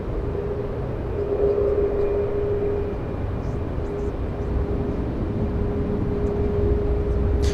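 Steady broadband jet roar with a sustained engine whine from an airplane on runway 28 right at San Francisco International Airport, a constant rumble at moderate distance with no talk.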